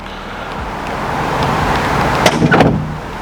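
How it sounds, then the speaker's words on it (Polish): A BMW E30's hood creaks and clunks open up close, a few short metallic knocks and a springy rattle over steady low road noise. "Tak się podnosi maska"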